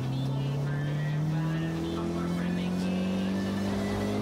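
A sustained engine drone from an Audi TT Black Edition in Forza Horizon 2, held in third gear as its pitch climbs steadily under acceleration, with a player speaking faintly over it.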